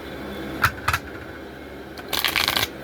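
Tarot cards are shuffled in two short bursts of papery riffling, close and crisp, with quiet gaps between them and no talking.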